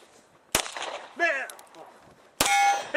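A Glock 23C fired at steel targets during a night shooting run: two sharp, loud metallic clangs with ringing decay about two seconds apart, with a shouted voice between them.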